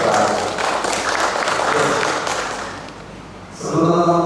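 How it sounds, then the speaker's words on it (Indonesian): An audience at an Indonesian question-and-answer session applauds a speaker with loud, close clapping that fades out before a voice and other sounds come in at the end. "Tepuk tangan buat Pak Ari."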